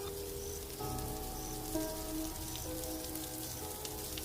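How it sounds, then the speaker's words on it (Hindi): Steady rain pours down as a continuous broadband patter, with faint sustained tones beneath it and no speech. "माया, इससे पहले फिर से बारिश शुरू हो जाए।"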